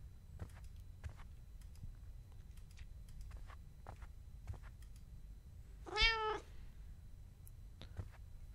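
In the video game The Kidnap, a cat gives one short, clear meow midway through, set against quiet, scattered clicking and a faint low background hum.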